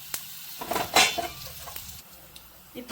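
A metal spoon stirs a tempering of mustard seeds, urad dal, cumin and broken dried red chillies in a pan, giving several sharp clinks and scrapes against the metal over a faint sizzle of hot oil.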